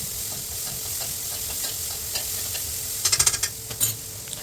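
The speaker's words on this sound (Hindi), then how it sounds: "तो भैया चने मैंने छोंक दिए, सुबह ही उबाल लिए थे मैंने ये।" Boiled chickpeas being tempered in a kadhai give a steady close sizzle of hot oil, joined near the end by a quick cluster of clinking stirring scrapes.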